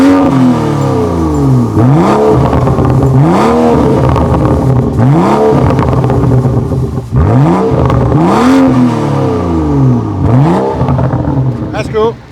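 A BMW 435i with an aftermarket catback exhaust revs repeatedly in a loud, close, rhythmic series of sharp climbs and drops, about six blips in steady succession.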